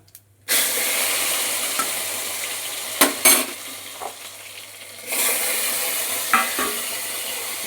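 Potatoes and taro dropped into hot oil tempered with nigella and cumin seeds burst into a loud, steady sizzle with spattering, broken by a few sharp clinks of a spatula against the pan.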